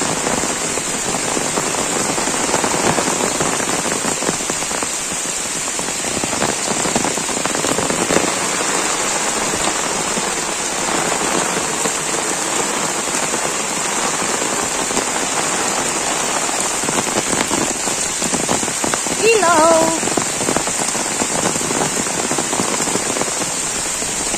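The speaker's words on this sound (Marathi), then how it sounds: "बेकार पाऊस." Heavy rain pours steadily and loudly onto surfaces, a dense continuous hiss with no voices.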